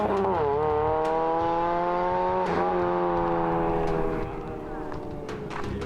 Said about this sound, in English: You can hear him off the throttle as he goes through the grip section.